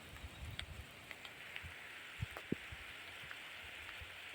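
Light rain patters on a rice farm, a faint steady hiss broken by scattered soft drops and a few sharper taps nearby, with no voices.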